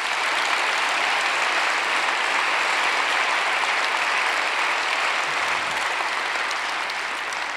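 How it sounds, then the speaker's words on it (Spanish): Sustained applause from a church congregation at a worship service, a dense, steady wash of clapping that fills the room without pause from start to finish. "¿Le puedes dar un aplauso al Señor por eso?"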